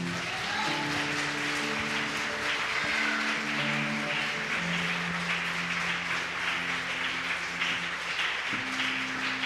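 Church congregation applauding in praise during a Spanish-language sermon, a steady wash of clapping throughout with sustained organ or keyboard tones underneath, fairly distant and even in loudness.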